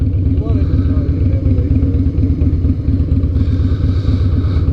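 A 2007 Harley-Davidson Night Train motorcycle idles with a loud, deep, steady rumble, close by, while people talk over it.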